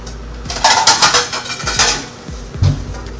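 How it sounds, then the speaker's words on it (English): A plate is pulled from a kitchen cupboard, with several clattering knocks of crockery and a final dull clunk as it is set down, close and fairly loud. "the next thing we're going to do is we're going to get a plate."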